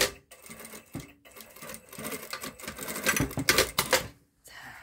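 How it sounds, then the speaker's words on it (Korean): Sewing machine stitching across a skirt zipper to secure its end, bursts of rapid mechanical rattling that stop briefly and restart, fairly close and moderate in volume, with no talking. "마무리가 안 된 부분은 지퍼와 이 부분을 한 번 더 박아줍니다"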